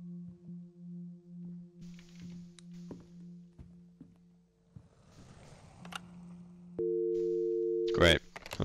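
Pulsing telephone busy signal in a horror video game, repeated evenly and then cut off, followed by a steadier dial-type tone, clunks and a brief person's voice.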